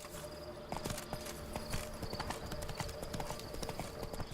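Roach the horse's hooves clip-clop in The Witcher 3: Blood and Wine, a steady, fairly close walking rhythm of repeated hoof strikes that continues throughout.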